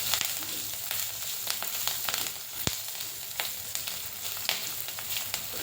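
Spice tempering with fenugreek crackles in hot oil for red pumpkin sabzi, a close, dense sizzle scattered with sharp pops and crackles that run steadily throughout.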